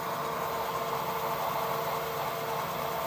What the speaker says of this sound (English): In fact, we'll drill this one to the same size, and then we can open it out.